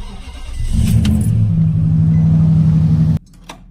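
An SUV engine cranks and catches close by, settling into a loud, steady idle rumble for a few seconds before cutting off abruptly.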